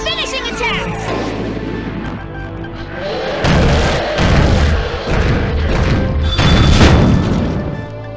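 A super finishing attack in the Mushiking rhinoceros beetle arcade game lands with a run of heavy booming crashes and thuds, loud and layered over a busy game soundtrack, building to a final big impact.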